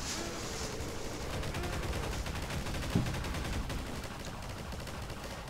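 Rapid, continuous turret fire in a shooter video game chatters steadily at moderate loudness, with one sharper impact partway through and no voices over it.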